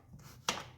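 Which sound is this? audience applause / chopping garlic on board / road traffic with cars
chopping garlic on board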